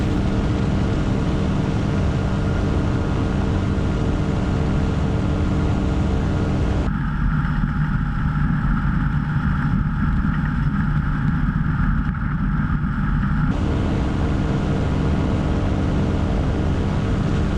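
Quicksilver GT400 ultralight aircraft engine droning steadily at close range as the plane descends toward an airport to land, with heavy wind rush and a brief change in tone partway through as the throttle is adjusted.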